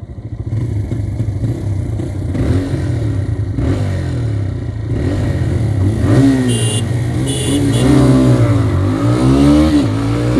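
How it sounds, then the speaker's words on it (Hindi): TVS Raider 125 motorcycle engine revving hard in power mode, loud and close, with a rising and falling pitch as the throttle is worked, sounding race-like throughout. "देखिए, रेव भी अच्छे से हो रही है, ये ज़्यादा हो रही है"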